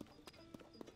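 Horse hooves clip-clop at an even walking pace in the video game The Legend of Zelda: Tears of the Kingdom, about four soft hoofbeats over quiet ambient game sound with no talk.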